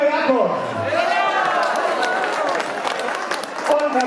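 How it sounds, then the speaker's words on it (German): Applause for Julia Jakob at the Essen carnival's storming of the town hall, a steady patter of many hands clapping from a festive crowd, mixed with chatter and voices throughout. "Applaus für Julia Jakob"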